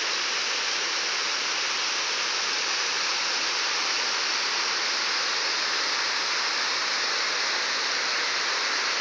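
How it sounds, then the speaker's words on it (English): Spring water pours out of rocks at a fish hatchery, a steady, dense rushing and splashing like a small waterfall, close and continuous with no voices. "that's the spring coming out of the rocks"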